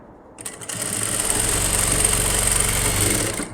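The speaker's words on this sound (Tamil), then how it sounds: "கரெக்டாக வச்சு மறுபடியும் இன்னொரு தையல் ஓட்டுறேன்," A sewing machine runs a fresh line of stitching along repositioned fabric while sewing a new-style sleeve design, starting after a quiet moment and holding a steady, close, continuous whir to the end with no talk.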